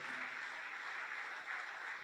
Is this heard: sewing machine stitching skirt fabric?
no